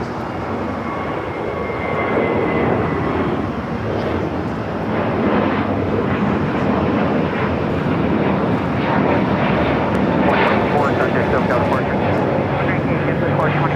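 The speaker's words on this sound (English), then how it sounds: "It's a JetBlue" A JetBlue Airbus A321neo jet bound for JFK roars steadily at Los Angeles airport, a loud, broad engine rush sustained throughout, with a voice talking over it.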